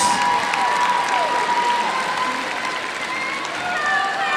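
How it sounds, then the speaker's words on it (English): Audience applause at a girls' high school basketball region awards presentation, a steady, loud wash of clapping from a crowd in a gym that continues evenly throughout. "let's give one more big round of applause to our first team, All-Region Selections."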